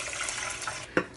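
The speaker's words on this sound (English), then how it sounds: "Add 2 cups of water." Water poured from a tap into a pot of rinsed rice, a steady close splashing stream with no voices.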